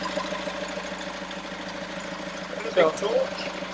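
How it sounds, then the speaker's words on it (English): A sailboat's inboard engine runs at a steady idle on a transatlantic crossing, a low continuous drone with water sloshing around it and a brief knock near the end. "We've solved one problem now since we've got the engine running"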